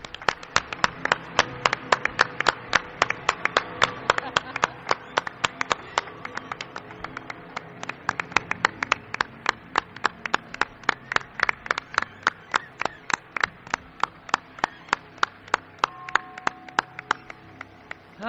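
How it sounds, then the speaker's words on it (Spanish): Studio audience on a late-night Spanish radio show applauding a guest: rhythmic, fairly sparse claps with sharp individual strikes, suggesting a small group clapping steadily for about eighteen seconds, with no talk over it. "Quiero un aplauso para él."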